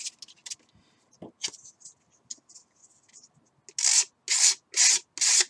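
Hand sanding the edge of a model rocket fin on an Apogee Aspire build, heard as scattered light scratchy rubs and then four strong, even back-and-forth sanding strokes close by, with no talking.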